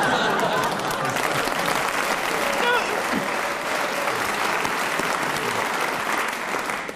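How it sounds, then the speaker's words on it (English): A studio audience at a comedy panel show applauds, a loud sustained burst of clapping from the crowd with a few chuckles, fading at the end. "I've never heard of anybody's infancy getting a round of applause before."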